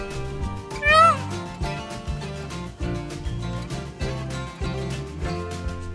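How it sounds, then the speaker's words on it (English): A single loud, wailing call from a peacock perched on a roof, much like a cat's meow, cuts in over steady background music. "The noise peacocks make is a caw. It almost sounds like a cat's meow."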